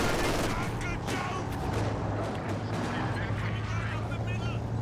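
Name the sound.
tank main gun firing, video game Company of Heroes 2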